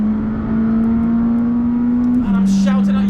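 A McLaren 620R on slick tyres accelerates hard out of a corner on a race track, its engine droning loud and close with a steady rising note and a brief gear-change dip, with a voice speaking over it.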